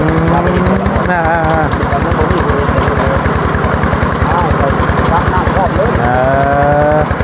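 A well drilling rig truck runs with a steady, loud, pulsing engine drone and rhythmic shaking throughout, with people talking over it.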